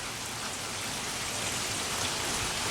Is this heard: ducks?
no